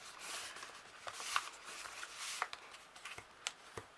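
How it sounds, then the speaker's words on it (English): Paper card for a handmade wedding gift bag creased and folded along its score lines, giving soft crisp rustles and a few sharp snaps, close and quiet with no talking. "just reinforce those and fold this little bit here again"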